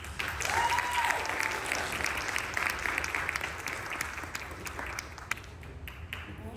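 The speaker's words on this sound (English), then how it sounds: "Please give a round of applause to" Sustained audience applause welcoming a guest at a content creators' panel, many hands clapping in a thick, even wash that continues throughout with a few sharper claps toward the end.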